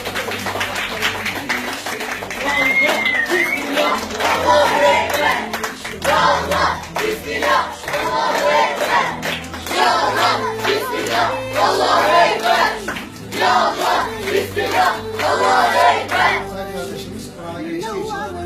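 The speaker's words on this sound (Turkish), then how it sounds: "Alkışlayalım." A crowd claps loudly in sustained waves, with cheering voices mixed in throughout, celebrating a student at a Quran class.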